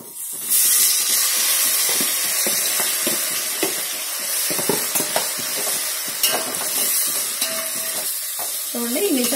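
Paneer masala mix sizzles and fries in hot butter in a pan, a loud steady hiss broken by scraping stirring strokes and spatula knocks throughout, with no voices.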